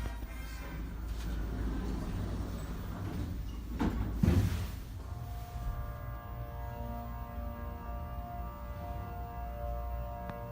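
A ThyssenKrupp Signa 4 hydraulic elevator motor runs with a steady low hum and whine throughout, briefly joined by a door-like slide and thump midway before settling back to the constant drone.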